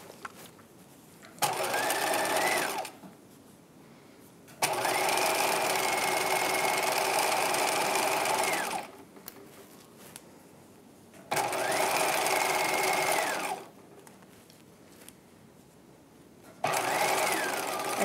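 A sewing machine stitching a side seam on a 1950s halter dress bodice at 5/8 inch with back stitching: four steady whirring runs separated by quiet pauses.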